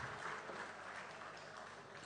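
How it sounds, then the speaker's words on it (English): An audience applauding an award-winning cultural dance troupe at a formal event, a dense, steady wash of clapping from many hands throughout. "Please, a round of applause for them."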